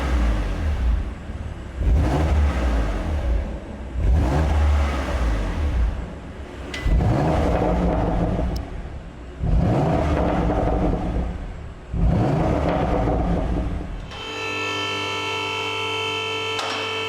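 A BMW M2 Competition on its stock exhaust system is revved repeatedly, with five or six strong surges of engine roar spaced about two seconds apart, each falling back to idle, before a steadier mechanical whir takes over.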